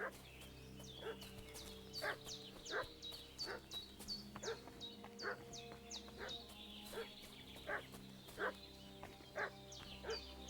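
A dog in the video game Kingdom Come Deliverance 2 barks repeatedly at a steady rhythm from some distance, with birdsong chirping in the background.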